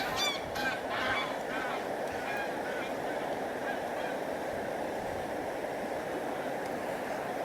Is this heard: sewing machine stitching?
no